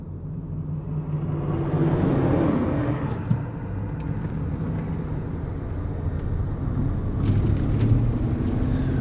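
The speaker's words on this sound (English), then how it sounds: "Let some of the cars go by." Cars pass on a road in North Carolina, a continuous rumbling wash of traffic swelling and fading as vehicles go by at moderate distance, with no talking.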